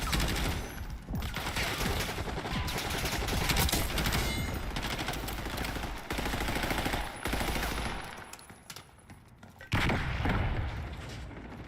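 Rapid video-game gunfire, with dense bursts of automatic shots and booming blasts running almost continuously and loud, easing briefly near the end before another burst.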